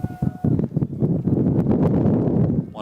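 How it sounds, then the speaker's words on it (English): A strong gust of wind buffets an outdoor microphone at a college baseball field, a loud, rough rumble of blustery noise lasting a few seconds. "One of the stronger gusts we've seen today."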